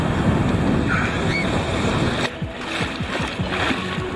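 Ocean surf washes and splashes at Refviksanden beach while someone rides the waves on a mattress, with steady roaring water, wind buffeting the microphone and a brief splash midway.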